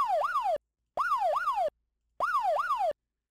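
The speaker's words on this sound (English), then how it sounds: "Just kind of a silly little police siren." A synthetic police siren sound effect for Minecraft wails in three short bursts, each a quick up-down whoop, separated by brief silences.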